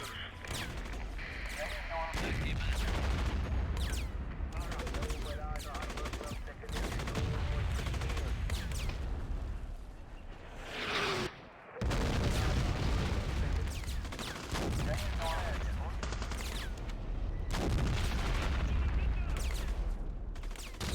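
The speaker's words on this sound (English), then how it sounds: "So I'm just going to call in artillery support straight away." Artillery barrage and heavy gunfire in a Modern Warfare desert airbase battle, a dense, continuous roar of booms, bursts and crashes lasting throughout with one brief lull midway.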